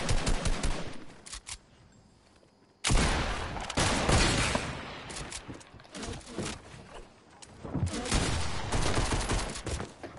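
Gunfire in a shooting video game, with dense bursts of rapid shots that drop off for a moment and then resume loud and continuous, mostly standing alone with little talk.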